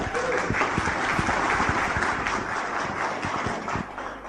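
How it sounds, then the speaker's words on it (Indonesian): An audience applauds, a steady, dense wash of many hands clapping close by that holds throughout and eases slightly toward the end. "Aplaus untuk Anda semuanya"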